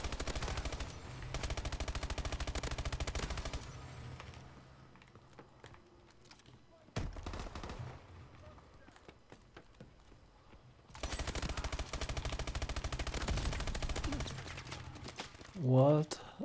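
An ASM1 rifle in a video game fires in loud, rapid full-auto bursts, three long strings of shots split by short pauses, with faint clicking in the gaps and a brief voice at the end.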